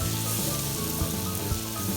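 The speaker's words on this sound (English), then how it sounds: "Then we're going to take carrots, onion, and celery that we have diced up and put in the pan to saute." Diced carrots, onion and celery sautéing in a pan, a brief, steady sizzle with soft crackling and a couple of light knocks.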